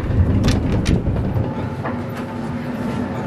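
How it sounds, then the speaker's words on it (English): Inside a third-class carriage of a moving Soviet steam train in Karelia, a steady low rumble of wheels and carriage, with a few faint rhythmic clicks and rattles near the start. "Now Nikki and I came from that VIP first class train to a third class train"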